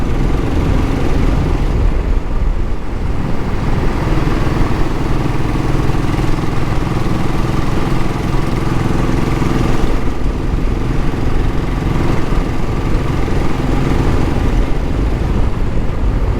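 A 2017 Royal Enfield Classic 500 single-cylinder motorcycle idles steadily nearby, a continuous low engine chug running loud and unbroken for the whole stretch with no talking.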